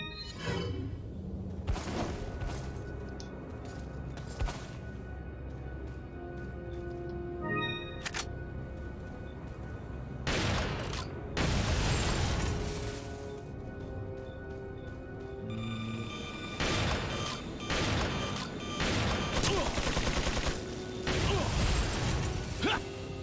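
Bursts of sharp gunfire and mechanical clacks from Resident Evil 4, loud and clustered in rapid volleys with short gaps between them.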